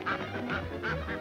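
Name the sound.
cartoon ducks quacking in Tex Avery's Wacky Wildlife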